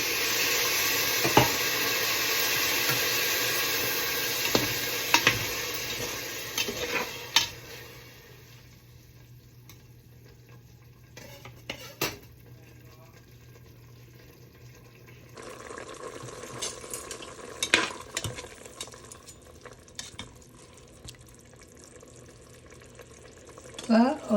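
A pot of water for cooking rice boils with a bubbling hiss, loud at first and then quieter, with occasional clinks of a utensil and a person talking.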